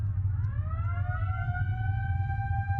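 An emergency vehicle siren inside the driving game BeamNG, a rising wail that climbs and settles into a sustained tone over a low engine rumble.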